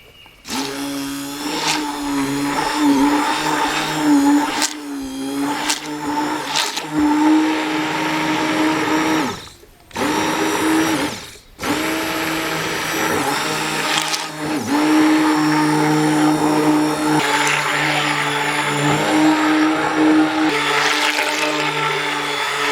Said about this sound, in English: now I'm going to mix it up using a stick blender.